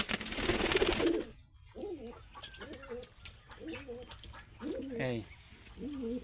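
Pigeons coo in a farm coop, several low rolling coos repeating close by, with faint bird chatter in the background and a short burst of noise at the start.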